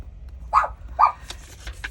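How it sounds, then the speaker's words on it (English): Two sharp dog barks close by, evenly spaced about half a second apart, followed by faint rustling. "My dog is barking now."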